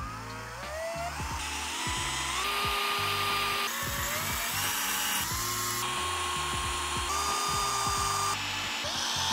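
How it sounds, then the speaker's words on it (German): A power drill bores into a living room wall to mount an indoor light strip, whining loudly and continuously with repeated pitch changes as the bit bites and the motor speeds up and slows. "Da bohr ich jetzt einfach rein."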